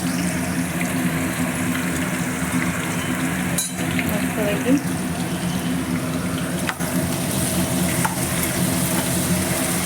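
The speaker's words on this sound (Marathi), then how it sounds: "कढीपत्ता ओला होता ना त्याच्यामुळं ते तेल उडलेलं आहे" Hot oil in a pan spatters after wet curry leaves go in for a brinjal curry, making a loud, continuous close-up sizzling hiss with a few sharp pops and clicks.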